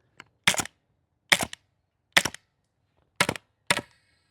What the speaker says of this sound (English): Still shooting off mags to a good distance.